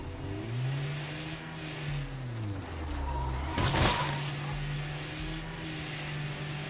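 A car engine in State of Decay 2 revs and accelerates with rising and falling pitch, at moderate volume, and a harsh crash or impact breaks in briefly midway.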